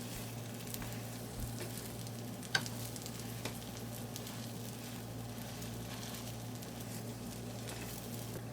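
An egg omelette cooking on low heat in a pan, a faint, steady soft sizzle with a single small tap partway through, quiet and close with no speech.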